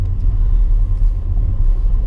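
Car passing close by, a loud steady low rumble of road traffic lasting a couple of seconds with no talk.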